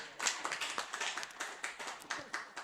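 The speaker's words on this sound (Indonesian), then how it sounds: "Mana tepuk tanganmu buat Tuhan?" A church congregation claps for God during an Indonesian sermon, a quiet, steady patter of hand claps heard from a distance.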